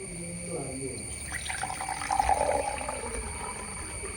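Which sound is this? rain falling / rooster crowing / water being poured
water being poured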